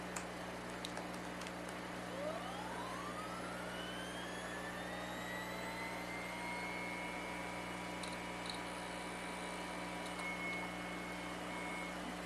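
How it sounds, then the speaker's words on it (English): EMF pickup coil on an IBM 20 GB hard drive as its motor spins up: a rising electronic whine sweeping upward over about four seconds, then holding a steady tone over a constant low hum, with faint ticks. "what you just heard was the hard drive spinning up to power"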